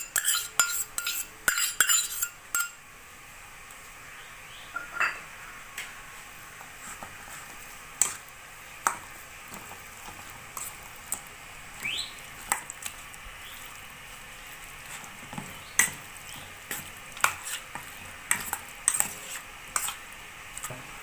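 Chicken pieces are mixed by hand or spoon with biryani masala and 100 g of sour yogurt in a bowl, giving soft squishing and scattered clinks of utensils against the dish, fairly close and quiet with brief louder knocks.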